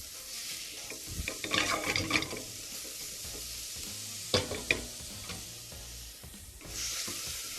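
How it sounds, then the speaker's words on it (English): Meat chunks sizzle in a pot for Persian celery stew while being stirred, with scraping bursts of the spoon over a constant frying hiss, close and fairly soft. "So you want to start stirring this for all the pieces of meat to start changing color."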